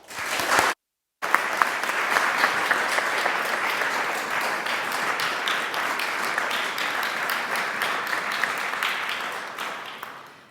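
Audience applause welcoming Prof. Dr. Lauren Howe to her inaugural lecture on the future of work, a steady, dense clapping from a full room that holds for about ten seconds after a brief gap near the start, with no talk.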